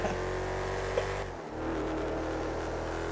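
A video-game car drives steadily, its engine droning loud and continuous with a brief dip in tone partway through, as if shifting or easing off, then resuming at a steady hum.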